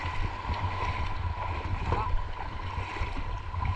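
A boat moves across the sea near an island, with a steady low motor rumble, splashing and wind noise close to the microphone.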